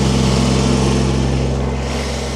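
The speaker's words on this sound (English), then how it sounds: "Stay right there, tractor." A tractor engine drones steadily and loudly at close range while pushing snow during a snowstorm, a constant even hum with no breaks and no voices.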